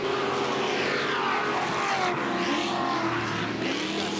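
Pro Lite off-road race trucks tear around the dirt course at Bark River, a loud continuous engine roar with rising and falling revving pitch as the trucks race and launch over a crest.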